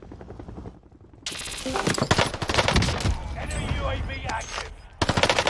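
Rapid bursts of MP40 submachine gun fire in Call of Duty on Rebirth Island, loud and dense, starting after a short quiet lead-in and resuming near the end, mixed with game sounds and a brief spoken game announcement.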